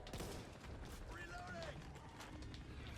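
A gun being reloaded in the video game Back 4 Blood: quiet mechanical clicks and creaks mixed with distant gunfire and a faint voice.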